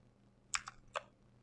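Quiet typing on a computer keyboard, three soft clicks in quick succession over a low background hum.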